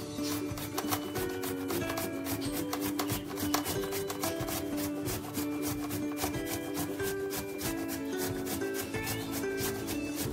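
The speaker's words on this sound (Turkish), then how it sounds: "Öncelikle patatesimi rendeleme ile işe başlıyorum." Potatoes rubbed against a kitchen grater in a steady, rapid rhythm of close scraping strokes, continuous and fairly loud throughout with no talking.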